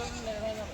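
A goat on a goat farm in Hyderabad gives a short wavering bleat close by, over background murmur and voices.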